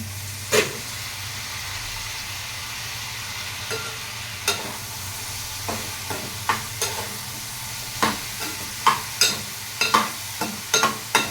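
Pieces of ridge gourd fry in a pan while being stirred, giving a soft steady sizzle broken by a series of sharp scraping clacks from the spoon against the pan, coming more often toward the end.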